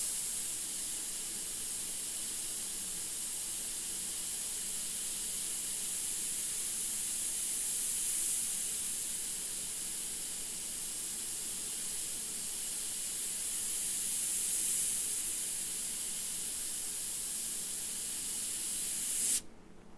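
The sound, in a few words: airbrush spraying paint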